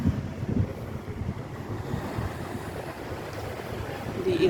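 Atlantic Ocean surf and wind at Cape Coast Castle, a steady broad roar of waves with gusting wind buffeting the microphone, loud and continuous without clear breaks.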